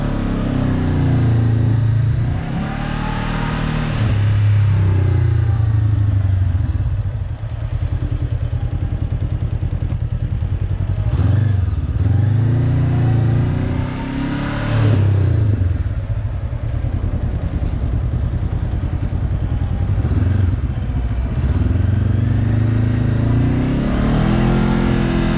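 A Honda CB500 motorcycle rolls slowly during a riding lesson, its engine idling and swelling in repeated low revs with occasional clutch clatter and thumps, close and steady without talk.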